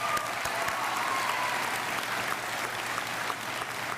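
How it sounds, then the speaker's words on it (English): An audience at a career and technical school's competition night gives a steady round of applause, with dense, continuous clapping from a sizable crowd held at an even level throughout. "it was a great round of applause there"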